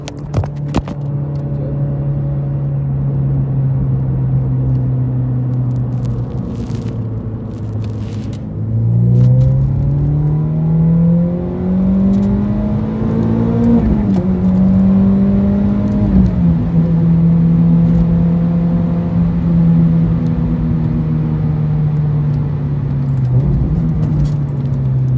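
A Renault Clio RS F1 Team R27 hot hatch taking a series of corners, its engine droning steadily from inside the cabin, dropping and rising in pitch as the driver lifts and accelerates between bends, with faint rattles throughout.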